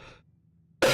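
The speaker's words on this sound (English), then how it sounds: "I'm actually trying to clear my throat." A single short cough or throat-clearing burst at the end, loud and close, after a brief faint breathy sound and near silence.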